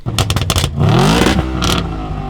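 A 4-litre naturally aspirated V8 in an Audi RS5 quattro blips a few sharp revs, then sweeps up into a loud rising howl and settles into a rumbling idle, close and alone.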